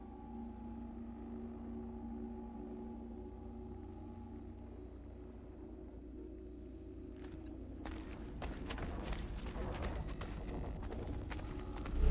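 Horse hooves in Assassin's Creed 3, a steady run of clip-clop steps over low ambient rumble that grows louder and busier toward the end.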